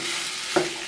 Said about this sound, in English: we're just going to stir these beans in